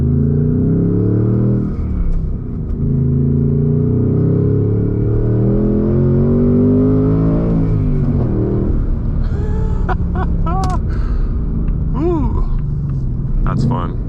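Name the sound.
Ford Mustang GT manual engine while driving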